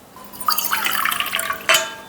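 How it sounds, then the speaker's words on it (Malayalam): Water poured into dosa batter makes a close, splashy trickle that swells into a steady gurgling pour, then ends with a brief sharper splash. "കുറച്ചുകൂടി വെള്ളം ഒഴിക്കുന്നുണ്ട് കേട്ടോ ഞാൻ."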